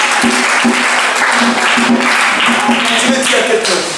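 A church congregation at a Sunday service applauds together in steady, rhythmic clapping that fills the room continuously and loudly, with voices mixed in.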